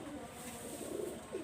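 Pakistani Teddy pigeon chicks, no more than a month old, coo softly in low, murmuring bursts against steady background hiss, faint and close.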